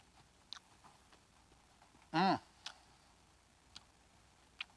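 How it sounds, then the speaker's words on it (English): A single crisp bite into a crunchy beer-battered fried mushroom makes one short, loud crunch, with faint small clicks scattered before and after in a quiet room. "See that crunch? That's what we're looking for."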